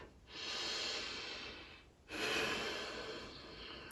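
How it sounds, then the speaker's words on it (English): Two long, deep breaths taken close to the microphone, a slow inhale-exhale followed by a second one, soft airy rushes with no speech. "I need to take a deep breath"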